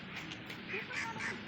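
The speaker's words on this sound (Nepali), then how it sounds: "यहाँ हाँसहरू पनि रहेछ" Ducks quack at a park in Jhapa, Nepal, several nasal calls in quick succession, faint and somewhat distant.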